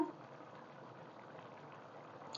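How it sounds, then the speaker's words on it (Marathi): Rice, an old sticky Indrayani variety, cooks in water over a high gas flame for masale bhat with black beans, giving a steady, soft bubbling simmer throughout with no talk. "मोठ्या गॅसवरतीच आपला भात आहे तो शिजू द्यायचा"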